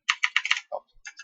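Quick burst of typing on a computer keyboard, several rapid close key clicks followed by a brief pause and a couple more taps, heard alone.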